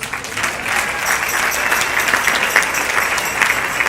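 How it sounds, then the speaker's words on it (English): Congregation or event crowd applauding a reverend who serves as a church chaplain, sustained full clapping from many people throughout, fairly loud and even. "Let's give her a round of applause."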